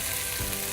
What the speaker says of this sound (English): Now we're going to pop in the tomatoes